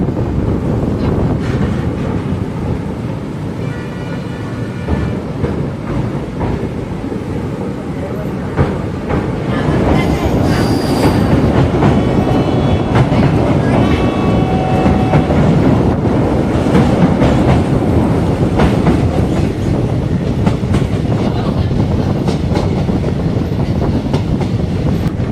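The Madurai–Rameswaram passenger express crosses the Pamban bridge with a steady loud rumble and rhythmic wheel clatter heard from on board, mixed with gusting wind noise.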